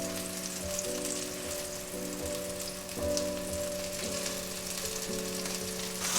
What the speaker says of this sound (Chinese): 不要忘记左右也要给它煎成金黄色